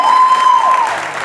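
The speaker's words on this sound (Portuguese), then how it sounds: "Deus salve de palmas." Applause from a congregation at a women's church gathering, a dense continuous clatter of many hands clapping for over a second, with a thin steady tone ringing faintly through it.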